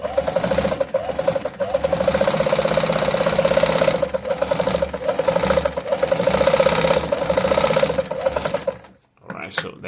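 A Toyota zigzag sewing machine sews a straight stitch at reduced stitch length, with loud, rapid, even mechanical clatter for about nine seconds before stopping abruptly.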